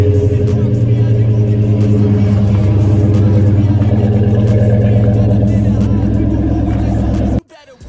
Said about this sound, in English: I want to do a cold start